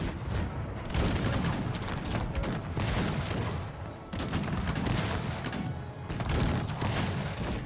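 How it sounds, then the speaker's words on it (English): Cannons fire in an 18th-century video game battle, a dense barrage of booming shots and gunfire layered over one another, loud and continuous with brief lulls and no talk. "These cannons are seriously annoying."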